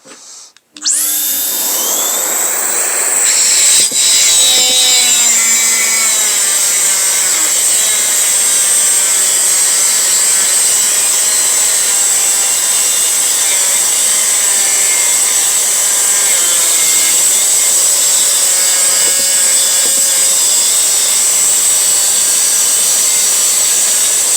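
A cordless mini angle grinder fitted with a 76 mm Colibri cutting disc runs steadily and loudly for the whole stretch, a constant high whine broken by a few shifts in pitch as the disc bites into the work, with no voices over it.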